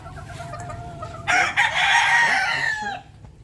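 A rooster crows loudly nearby, one long call standing out over a background of hens clucking softly.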